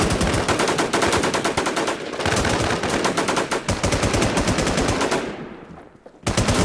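Gunfire from the battle royale video game NewZ, with dense, loud machine-gun bursts rattling almost continuously and a brief lull near the end before shots resume.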